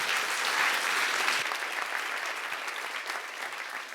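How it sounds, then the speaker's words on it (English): At a tech leadership event, an audience gives a final round of applause, a dense, even crackle of many hands heard alone and fairly close, tapering slightly toward the end. "a very final, one round of applause for Aurelia"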